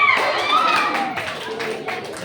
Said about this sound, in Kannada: ಚಪ್ಪಾಳೆ ತಟ್ಟೆ ಅವರು